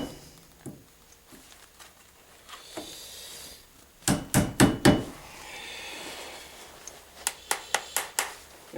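A hammer peening the end of a pin on a handmade knife: a quick burst of four sharp metallic taps, then a pause, then another run of five evenly spaced taps, close and crisp.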